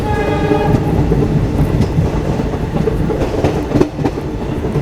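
The Kanchanjangha Express, pushed by a banker engine, runs through the curves of hilly terrain near New Haflong in northeast India, a steady close rumble and rattle of wagons with a horn tone sounding early on.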